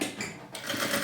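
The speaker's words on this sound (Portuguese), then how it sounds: "vou passar a costura aqui bem na ponta" A sewing machine running a straight stitch along fabric lining at the edge of a handmade bag, a fast continuous mechanical whir with a brief dip in the middle, close and alone.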